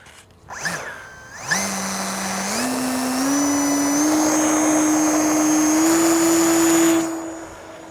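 A Durafly FG-1 RC plane's electric motor spins its propeller up to a steady, rising whine that holds loud and close for several seconds before cutting back.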